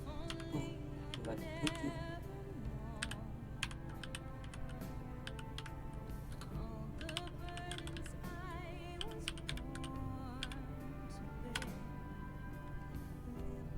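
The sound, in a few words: typing a grep command on a computer keyboard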